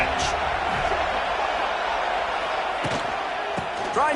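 Stadium crowd in a college football video game, Pitt at Florida State, roaring continuously on a third-down red-zone play, a dense, loud wash of noise with a few sharper thuds and whistles near the end.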